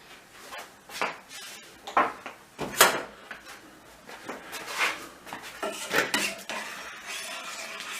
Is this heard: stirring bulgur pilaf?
yes